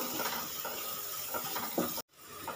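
Egg curry masala, fried down until the oil separates, stirred in a pan with a little garam masala added: a steady close sizzle with soft scraping strokes, broken by a brief total silence near the end before the frying resumes.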